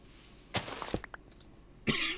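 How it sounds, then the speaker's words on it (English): Sharp coughs from a person who choked, two or three abrupt bursts with a brief pause between them, close and loud over a quiet background. "I just choked there and coughed"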